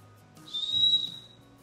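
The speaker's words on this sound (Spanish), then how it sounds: "y también cuenta con un silbato." A shrill, steady blast from the small whistle on a survival paracord bracelet clasp, about half a second long, sounded once close up and alone with a faint low hum underneath.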